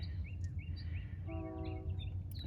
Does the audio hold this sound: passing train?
yes